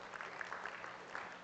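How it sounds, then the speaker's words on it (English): An audience at a startup summit claps in a round of applause, a dense, steady patter of many hands at moderate distance, fairly faint and continuous without voices. "Each one of you give yourself a big round of applause."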